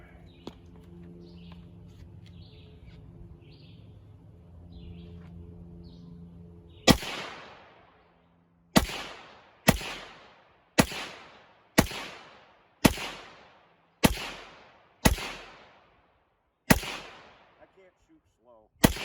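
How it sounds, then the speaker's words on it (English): A Punisher 300 Blackout rifle fires about ten sharp, loud shots in steady succession outdoors, each crack followed by a brief echoing decay, after a quiet stretch of faint ambient hum and birdsong. "I'm gonna go ahead and run a mag through it and see how I do."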